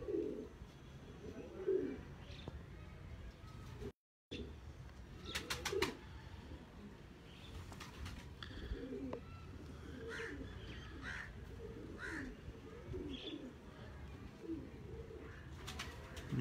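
Pigeons coo and call steadily in an aviary with a large red gold female among the breeding birds, soft repeated low coos over a constant background murmur with occasional higher bird chirps.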